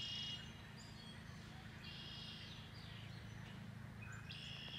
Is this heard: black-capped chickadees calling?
yes